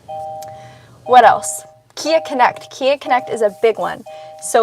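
A steady electronic warning chime pulses repeatedly in the cabin of a 2023 Kia K5 GT-Line AWD while someone talks over it close by.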